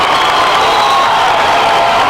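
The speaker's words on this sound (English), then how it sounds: "NAC crowd liking that." A home crowd at a girls' high school basketball final between NAC and Seton Catholic roars and cheers in a dense, loud, continuous wash of voices.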